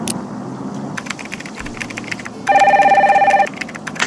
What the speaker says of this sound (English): Get the phone, please.